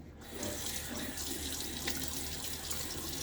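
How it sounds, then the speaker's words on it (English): Steady stream of tap water running into a sink while shaving soap is rinsed away, continuous and fairly soft, alone without talk. "Rinse away a little bit of soap here."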